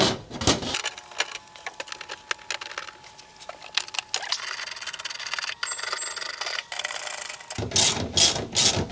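Ratchet clicking while an AC bracket and cover are refitted on a home air-conditioning unit, rapid mechanical ticks in bursts with brief pauses, fairly close, with no talking.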